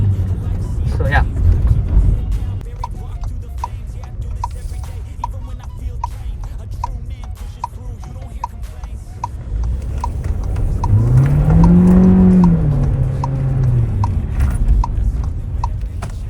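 A tuned Volkswagen Taigun GT 1.5 TSI with a Stage 1 transmission tune pulls hard through its gears, the engine note climbing and swelling as it accelerates, heard from inside the cabin under steady road noise.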